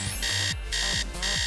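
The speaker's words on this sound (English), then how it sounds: "she didn't hear her alarm on her phone ringing" A cartoon phone alarm rings loudly and alone, repeating a bright electronic buzzing tone in quick, regular bursts over a bouncy low beat.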